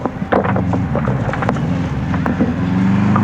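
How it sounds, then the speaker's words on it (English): A Subaru Impreza rally car passes on a stage at Rally Rushmoor 2005, its engine roar close and loud and rising at the end, heavily buffeted by wind noise. "Darren Hutt from Craven Motor Club in their Subaru Impreza"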